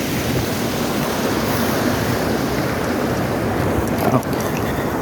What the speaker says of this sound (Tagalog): Ano, malakas yung agos.